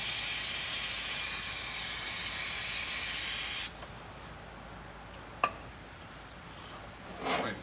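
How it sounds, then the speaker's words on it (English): Brake cleaner sprayed in a long, loud continuous hiss over a Detroit 60 Series diesel engine during a service, cutting off abruptly, followed by a few faint clicks and a short soft spray. "Brake cleaner. Get everything nice and clean."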